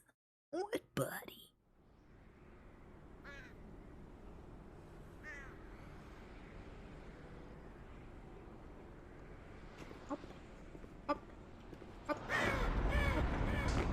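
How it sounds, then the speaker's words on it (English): Several harsh caws from a raven in the Black Mesa video game, a stock Half-Life 2 sound, come early as a few sharp calls, then give way to steady ambient game noise with scattered clicks and a loud burst near the end. "Nice canned Half-Life 2 Raven sound."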